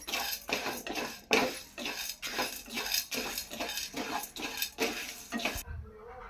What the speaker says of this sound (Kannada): ನೆಕ್ಸ್ಟ್ ಕಡಲೆಬೇಳೆ ಉದ್ದಿನಬೇಳೆ ಹುರಿತಾ ಇದ್ದೀವಿ